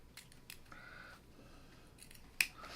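Scissors trim a quilt block, giving a few soft close snips and a brief slide of the blades, ending in one sharper click.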